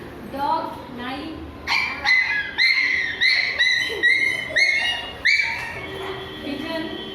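A person in a classroom mimicry activity imitates a dog, a quick run of sharp, close yips and barks in steady rhythm, trailing off into softer voice.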